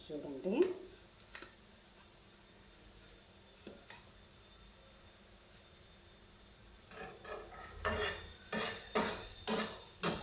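Paneer bhurji mashed and stirred in a frying pan, with a scrape and clatter near the start, quiet sizzling through the middle, then a run of rhythmic scraping strokes toward the end.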